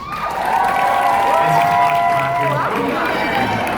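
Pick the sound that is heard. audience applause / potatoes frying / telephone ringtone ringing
audience applause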